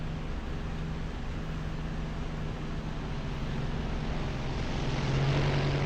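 Propeller aircraft engine in the War Thunder flight simulator, a loud steady drone with constant hum, its pitch stepping up slightly near the end as power increases.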